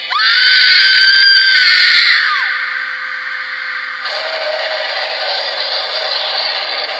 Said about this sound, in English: And over the top scream in 3,